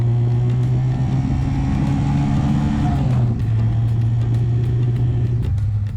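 Motorcycle engine running on a road ride with the throttle swept between roughly 20% and 80%, a steady loud drone that shifts pitch as the throttle rises and falls.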